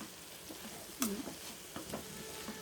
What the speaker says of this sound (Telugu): సో ఇలా ఫ్రై చేసుకోవాలండి